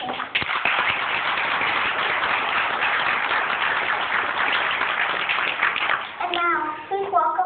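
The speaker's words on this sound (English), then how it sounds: "let's give a warm round of applause to both of our participants" Audience at a church Christmas program claps in a steady round of applause, with children's voices mixed in, before the clapping gives way to someone speaking near the end.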